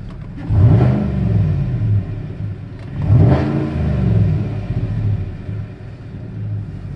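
A 2017 Chevy Silverado Z71 LTZ with a modified 6.2 V8 revs twice in a stationary truck, each loud throaty swell rising and falling, with a rumbling idle between and after.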